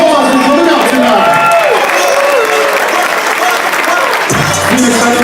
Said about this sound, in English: Give yourself a big round of applause for coming out tonight.